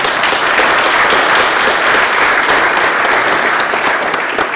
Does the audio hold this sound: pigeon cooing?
no